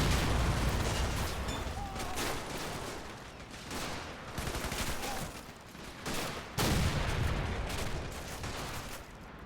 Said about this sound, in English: There's lots of mortars and machine guns.